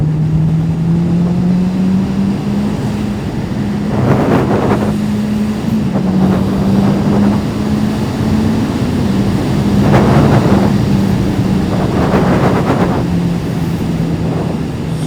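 A Honda 650 four-cylinder motorcycle engine drones steadily while riding on country roads, its pitch rising and falling with the revs under heavy wind rush, with several brief louder surges.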